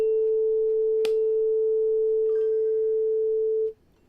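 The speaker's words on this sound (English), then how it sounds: "Two tuning forks. They're both the same exact frequency, 440 hertz." Two 440 Hz tuning forks ring together as one pure, steady tone with a sharp tap partway through, then the tone cuts off abruptly near the end.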